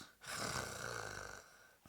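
A preacher imitates loud snoring with his voice, giving one long, rasping snore that swells quickly, holds for over a second and fades out.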